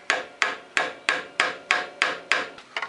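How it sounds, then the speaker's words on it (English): Nine sharp metallic taps in a steady rhythm, a hammer striking a screwdriver wedged into a motorcycle part to spread it open, up close, with no talking. "tap it with a hammer, try to spread that open."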